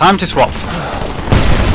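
Gunfire in the video game Homefront thuds and rattles in short bursts, fairly loud and close, with someone speaking briefly over the start.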